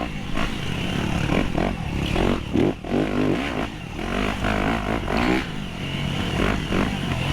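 Dirt bike engine with a loud exhaust revving and pulling hard at a race, a close, rough motor note that rises and falls in repeated bursts, with brief clatter and no talk.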